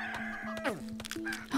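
A level 3 chicken in the game CHKN clucks in short, close, rapid bursts with a few rising squawks, the calls stacked over a quiet background without speech.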